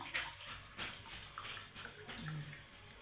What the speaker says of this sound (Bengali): এইভাবে আমি জলটা ঢালছি।